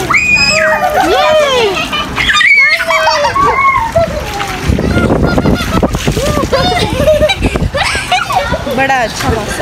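Children splash and slosh in water while bathing, loud, close splashes in irregular bursts, mixed with excited children's voices and an adult talking throughout.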